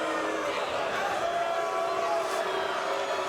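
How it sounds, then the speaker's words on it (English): A fight crowd at Caesars in Windsor, Ontario boos in a sustained, dense, distant roar, with a commentator speaking over it. "Boos from this crowd here at Caesars in Windsor, Ontario"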